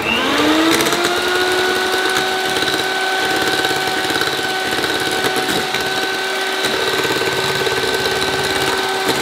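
Electric mixer beating cream, condensed milk and warm gelatin for a quick dessert, a loud steady whir with a constant high motor tone held throughout, no talking.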